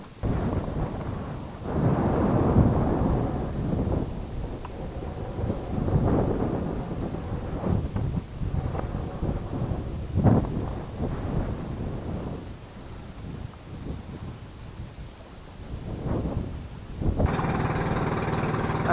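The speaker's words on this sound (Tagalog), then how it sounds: "Ang lakas ng ulan." Heavy rain pours steadily near a hanging bridge in the Hundred Islands area of Alaminos, Pangasinan, a loud broadband roar with wind buffeting the microphone throughout.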